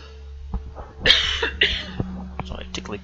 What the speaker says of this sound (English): Sorry, tickly cough's kicking in.